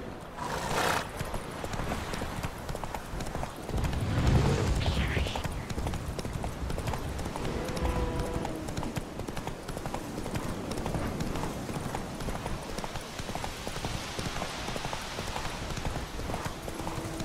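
Roach, the horse in The Witcher 3 video game, clip-clops along at a steady walking rhythm, hooves thudding close by throughout. There is a brief whinny, and someone speaks over the hoofbeats.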